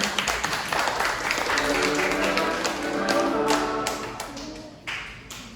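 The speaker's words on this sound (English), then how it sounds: "A big round of applause again." Applause from an audience, a dense patter of many hands clapping that swells and then tapers off near the end.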